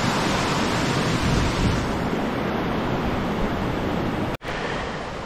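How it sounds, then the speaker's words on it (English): Rainwater rushing down a lush tropical mountainside trail in St. Vincent, a dense, steady roar of flowing water broken by one brief dropout near the end. "All this water coming down there."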